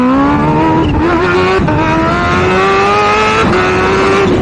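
A Kawasaki Ninja H2 running a race-gas tune roars loudly and continuously as it launches hard, engine revving up steadily with brief shift-like dips, close and dominating throughout.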